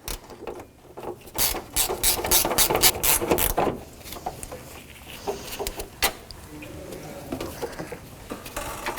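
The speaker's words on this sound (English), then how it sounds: "10mm wrench or socket." A ratchet with a 10mm socket loosens bolts on a 1984-2001 Jeep Cherokee during radiator replacement, with bursts of rapid clicking, close and fairly loud, then slower scattered clicks and clanks.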